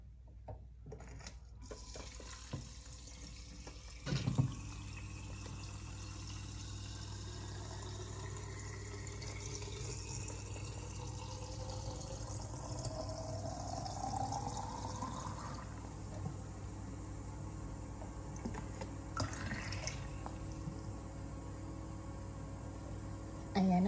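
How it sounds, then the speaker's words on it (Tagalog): Water filling a half-liter detox drink container holding lemon, mint, ginger and cucumber; a steady pour with a rising filling tone runs for about fifteen seconds, with faint room noise and a couple of handling knocks. "So, lagyan na natin ng tubig."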